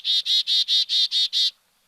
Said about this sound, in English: each flock of chickadees has its own unique chickadee call